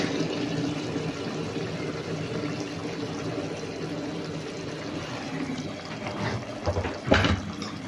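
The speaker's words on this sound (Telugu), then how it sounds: "ఇప్పుడు మనం హాట్ వాటర్ వేసుకుందాము" Hot water poured into a simmering egg masala curry, a steady liquid pour and sizzle running throughout, ending in a short louder splash near the close, with no voices.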